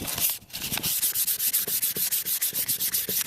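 Sandpaper rubs back and forth on a wooden Husqvarna axe handle to strip its finish, in fast, even, rhythmic strokes that are close and fairly loud.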